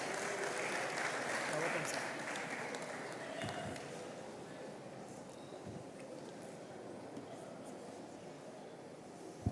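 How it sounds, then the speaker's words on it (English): An audience at an executive programmes graduation ceremony at Lagos Business School applauds its class president, steady broadband clapping that starts strong and tapers slightly, with voices murmuring underneath. "A round of applause for him, please."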